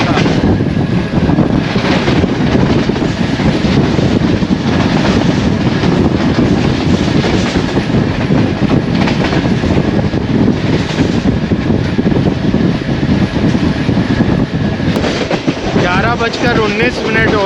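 Passenger train 11U rumbles loudly through Sindh between Landhi and Padidan junctions, a dense continuous roar of wheels and carriages with rattling clatter throughout, heard up close.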